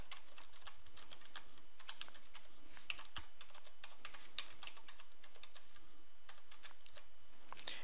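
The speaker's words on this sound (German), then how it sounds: "gebe hier meine Anmeldedaten ein" Login credentials being typed on a computer keyboard: a steady, quick run of crisp key clicks throughout, close and moderately quiet, with no talking.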